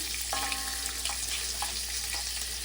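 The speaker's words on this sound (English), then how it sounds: "my turkey sausage. Remember, this flavor's in there already, so I'm browning that." Turkey sausage browns in a skillet with a constant frying sizzle and a few soft scrapes and stirs, close up with no talking.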